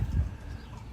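Racing pigeons at their loft give a brief low coo up close, a soft murmuring burst that fades into quiet outdoor background within a second.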